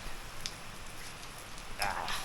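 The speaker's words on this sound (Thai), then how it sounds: "พอขึ้นมานี่ฝนตกเฉยเลย" Steady rain patters in a soft, even hiss at a mountain viewpoint in Huai Nam Dang National Park, with a few sharper drips standing out above the constant wash.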